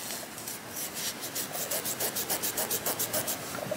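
A crochet hook drags and grabs against yarn, making a scratchy, rasping rub that repeats in quick, even strokes. The strokes grow more regular and distinct toward the end, moderately loud and close, with no talking.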